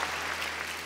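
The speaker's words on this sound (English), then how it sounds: "you should applaud at that, by the way" An audience at a talk applauds in a brief, even wash of clapping that stays fairly soft and distant for under a second.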